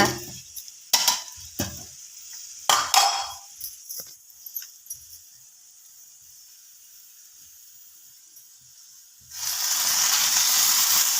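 Okra dry-roasting with salt in a pan gives sharp stirring scrapes and clatters, then a quiet stretch, then a steady close hiss of sizzling at the end.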